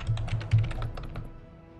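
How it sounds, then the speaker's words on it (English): Rapid clattering keystrokes on a computer keyboard picked up by a nearby microphone during a Darkest Dungeon 2 gaming session, a quick burst of close taps that thins out toward the end. "I'm sorry about the keyboard sounds on the microphone."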